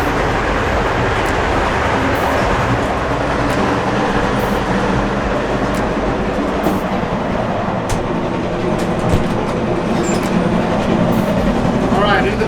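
Interior of a moving sleeper train in Egypt running from Luxor to Giza, with a loud constant rumble, rattling carriage and occasional clunks and knocks close by.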